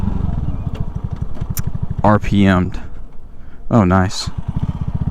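Motorcycle engine revving high in fifth gear, a steady close engine buzz with two sharp throttle surges, while a rider briefly speaks.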